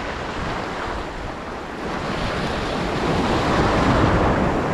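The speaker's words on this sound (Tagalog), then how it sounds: "may kalakihan yung gulong ng alon dito" Ocean waves surge in a continuous roar at a fishing spot, loud and close, with wind buffeting the microphone and the rush building slightly toward the end.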